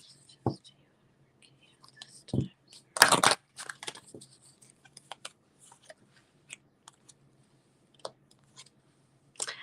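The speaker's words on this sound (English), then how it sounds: "I'm going to shuffle my cards here." Tarot cards being shuffled during a live psychic reading, a few soft riffling bursts and taps spread over quiet background, with faint whispery sounds between them.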